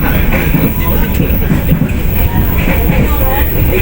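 Train passing Sadang railway station: a loud, steady rumbling roar of rolling rail cars fills the whole stretch, with a faint rhythmic clatter under it and no pauses.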